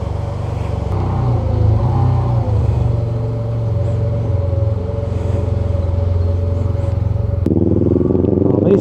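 A Yamaha TMAX 560 maxi-scooter rides along with a steady, close engine drone and road rumble, pitch shifting slightly as it accelerates near the end, with no talking.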